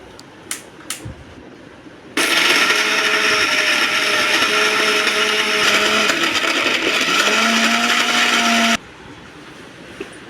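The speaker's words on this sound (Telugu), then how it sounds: "నువ్వులు కూడా తీసుకొని మిక్సీలో వేసి మిక్సీ జార్ చేసేయండి మెత్తగా గ్రైండ్ చేసుకోవడమే" A few faint taps, then a mixer grinder roars loudly for several seconds grinding roasted sesame seeds, with a steady whirring motor whine before abruptly stopping.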